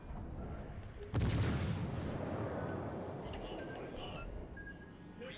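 A warship's front guns fire in World of Warships Legends: one sudden heavy boom, then a long rumbling roll that slowly fades, with faint talk before the shot.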